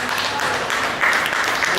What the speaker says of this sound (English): do one more big round of applause